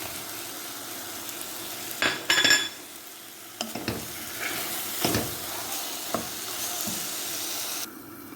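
Spices for red rice frying in a pan with a steady sizzle, broken by several louder scraping stirs of a utensil against the pan; no one speaks.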